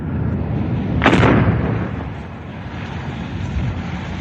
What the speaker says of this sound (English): The massive explosion blows away tons of rubble and coke.